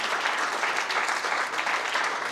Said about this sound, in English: Let's give a round of applause for Joelle, his business partner as well.